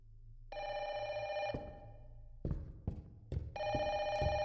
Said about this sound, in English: Oh, telephone.